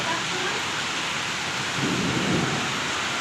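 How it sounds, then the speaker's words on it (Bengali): Heavy rain pours steadily with gusting wind, a dense continuous roar and a low rumble swelling briefly partway through. "আমাদের এখানে কিন্তু প্রচণ্ড হাওয়া, ঝড়, বৃষ্টি পুরোটাই হচ্ছে।"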